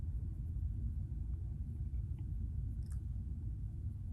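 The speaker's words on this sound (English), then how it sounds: "that is the storm brewing here in Chicago" A low, continuous rumble of a storm brewing over Chicago, distant and steady for the whole stretch without clear individual claps.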